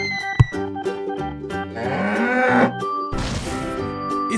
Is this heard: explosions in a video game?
no